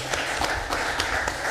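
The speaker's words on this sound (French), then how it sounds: "Je crois qu'on peut applaudir Virginie Di Ricci." An audience claps for Virginie Di Ricci, a steady patter of applause in a hall, fairly close with a few sharper claps standing out.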